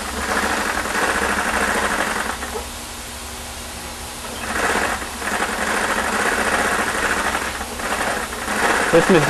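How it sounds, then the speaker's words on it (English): A zigzag sewing machine stitches the back seam of leather boots in a custom boot workshop, running in a steady mechanical whir that swells and eases, while a person talks over it. "This machine's called the zigzag machine. It basically closes the back of the boots just before we put the back strap on."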